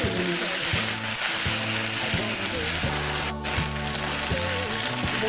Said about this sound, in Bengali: একটু ভেজে নেব, নাহলে কাঁচা কাঁচা গন্ধটা যে আসবে সেটা থাকবে না।